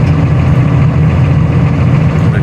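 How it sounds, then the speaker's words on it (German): A small forestry skidder with a three-cylinder diesel of roughly 14 to 20 horsepower runs steadily close by, a constant low engine drone with no speech over it. "Hat einen kleinen Motor drin, einen kleinen Dreizylinder Diesel."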